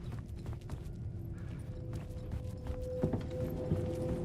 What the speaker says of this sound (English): And being haunted, I can hear footsteps.